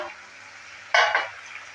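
Soybean and jackfruit curry being stirred in a pan, a soft steady sizzle that breaks into a louder scraping stir burst about halfway through, then fades back to a low fry.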